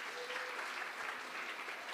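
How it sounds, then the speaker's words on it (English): Steady applause from an audience for participants at a Bible quiz on the Book of Daniel, dense, even clapping held at the same level throughout. "Can you give all our participants a hand of applause?"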